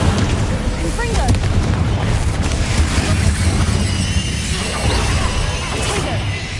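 The Confringo explosive spell goes off in Hogwarts Legacy: a heavy, rumbling blast with crashing debris that carries on loudly for several seconds.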